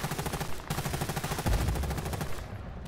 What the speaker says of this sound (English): I keep getting shot from above